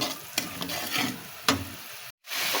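Spice paste with turmeric fries and gets stirred in a pan for fish curry, a soft steady sizzle broken by a few sharp scraping strokes and a brief silent gap.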